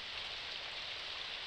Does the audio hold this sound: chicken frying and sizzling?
no